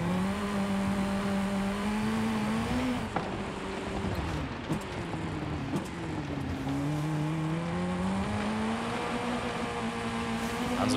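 Rally car engine in the racing game Forza Horizon 5, a steady loud drone whose pitch rises and falls as the car shifts and accelerates, with brief bumps and skids, no talk over it.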